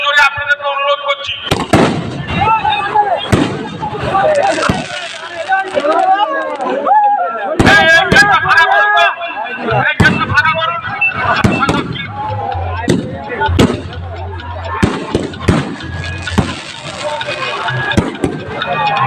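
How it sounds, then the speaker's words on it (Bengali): Fireworks display at a knockout-stage sports event in an open field, with repeated loud bursts and crackling pops across about nineteen seconds, mixed with crowd noise and people talking throughout. "আতশবাজি প্রদর্শন শুরু হচ্ছে"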